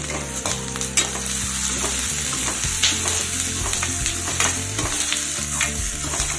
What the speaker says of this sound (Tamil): மூணு பல்லு பூண்டு போட்டு வதக்கிக்கிங்க